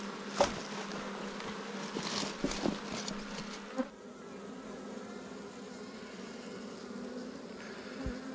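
A dense, continuous buzzing of many honey bees at an opened abandoned hive swarms close by, with a few knocks and handling bumps early on before the hum settles.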